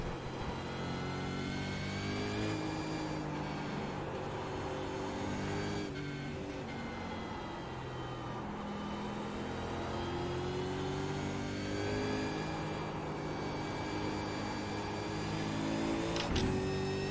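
A V8 Supercars race car engine in iRacing at Suzuka revs steadily with rising pitch sweeps and quick gear shifts, a continuous mid-level engine drone with no talk.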